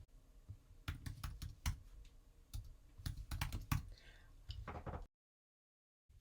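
Rapid clattering keystrokes on a computer keyboard as a terminal command is entered, irregular bursts of close clicks for about five seconds before stopping abruptly.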